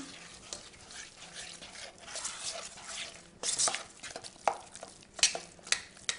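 Whole wheat bread ingredients and sesame seeds are stirred together in a bowl, producing soft scraping and rustling along with a few sharper clinks and knocks near the end, all fairly quiet.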